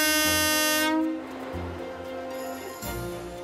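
A Minamiaso Railway train departs Takamori Station in the early morning with a loud, sustained horn blast that cuts off after about a second, followed by low rumbling and a second, shorter horn note near the end.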